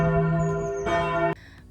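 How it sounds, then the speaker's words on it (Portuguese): A church bell in the Alsace-Lorraine region rings with a sustained, rich tone. Fresh strikes land at about 0.9 and 1.3 seconds and leave a fading hum behind them. "Eu tô filmando pra ouvir o sino."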